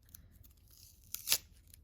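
Adhesive tape rips once, briefly and sharply, while a Heavenly Bodies Astrology tarot deck is being unboxed in a quiet room.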